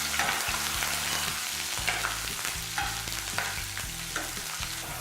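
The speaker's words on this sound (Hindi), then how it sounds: "अदरक, लहसुन, हरी मिर्च को 1 मिनट के लिए भूनेंगे।" Ginger, garlic and green chillies fry in a pan for a dal tadka with a bay leaf, giving a steady close sizzle throughout, with occasional stirring scrapes and clinks and no talking.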